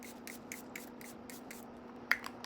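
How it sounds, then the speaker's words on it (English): A One Size Powder Melts setting spray mists repeatedly, a series of about eight short, evenly spaced soft hisses, followed by a couple of sharper handling clicks at the end. "I'm gonna lock in my skincare with this One Size Powder Melts spray"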